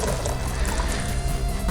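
Water sloshing and splashing as a sponge wipes across tile to clear loosened epoxy grout residue, a continuous close wet rush with no talking.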